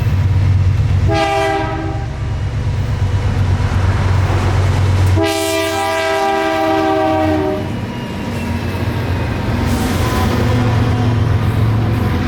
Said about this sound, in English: With loaded ethanol tanks coming down from Bensenville, Illinois, K42325 would be K422's first meet at Plant City Siding, coming up the hill with 3 more BNSF motors pulling.